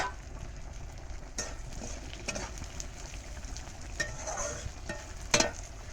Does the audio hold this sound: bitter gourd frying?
yes